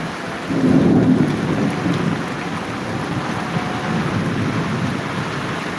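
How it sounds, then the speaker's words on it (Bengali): Heavy rain pours during a Kalbaishakhi storm in Dhaka, heard from a window: a dense, loud, continuous roar of rainfall with a deep rumble of thunder swelling near the start, with no voice. "চলছে ব্যাপক বৃষ্টি"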